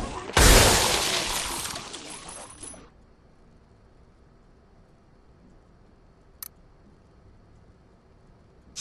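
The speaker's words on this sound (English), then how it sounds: "Freeze your enemies in their tracks with this bomb that releases a freezing mist in a" A freeze bomb goes off in the video game Sunset Overdrive, releasing a freezing mist: a loud bursting, shattering hiss that fades over roughly two and a half seconds, then quiet with one brief tick.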